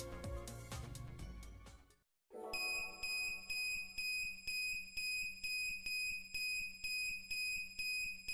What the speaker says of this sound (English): As Prokyon's alarm blaring